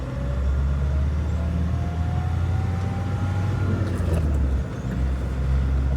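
A converted Mahindra Scorpio Classic runs on the road, its engine droning steadily under loud continuous road and wind noise, with a brief swell in revs midway.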